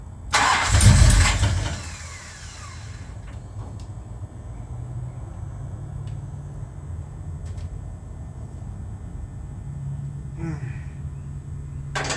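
A Plymouth Road Runner engine cranks and catches with a loud burst, then settles into a rough, steady idle with the timing set too far retarded, running on alone for several seconds with a brief rise near the end.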